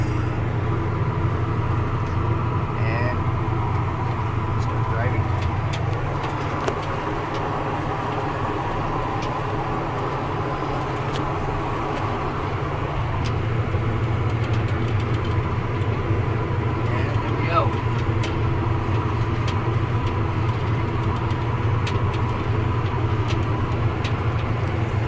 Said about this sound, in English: turn on the PTO, and once I throttle up, we'll get going faster